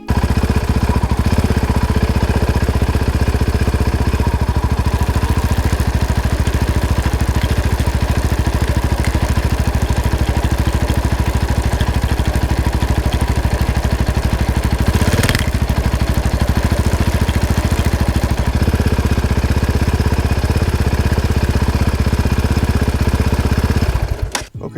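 Yamaha Raptor 700 ATV with a chain roller runs steadily up close for about 25 seconds, a loud, even, rattly single-cylinder engine drone with a brief surge midway before it cuts off at the end, no voices.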